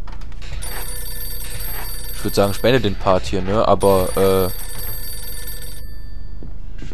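A telephone rings in the Mafia 2 video game, a steady ring with repeated bell tones that runs through the whole stretch while someone talks in German over the middle part.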